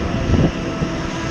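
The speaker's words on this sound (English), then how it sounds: "There's the aeroplane." Steady, broadband engine drone of a skydiving aircraft heard near the drop zone, loud and continuous with a slight swell, no talking over it.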